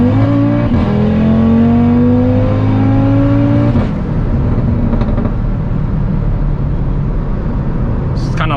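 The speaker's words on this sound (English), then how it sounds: "you push the throttle all the way down, it will kind of brake boost for you" An Audi RS3 engine revs hard with the throttle held down for brake-boost anti-lag, its pitch climbing steadily before dropping off into a rough, loud idle rumble, heard close from inside the car.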